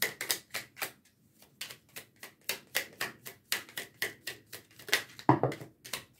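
Oracle cards being shuffled and drawn, a close run of crisp rhythmic riffling snaps and slaps repeating steadily, alone with no talk.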